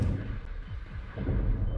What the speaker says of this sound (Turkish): Hop oh, biri daha patladı.